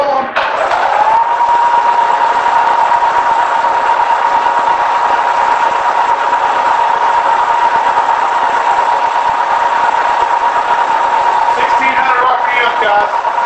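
A K&T 2CH milling machine runs steadily at 1,500 RPM, giving a loud, continuous machine drone with a sustained steady whine that holds unchanged throughout, with a few brief clanks near the end.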